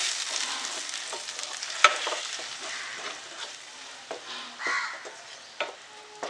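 Masala paste for a cashew and prawn korma sizzling in a pan while a spoon stirs it, with close, continuous frying hiss and irregular scrapes and clinks, no voices.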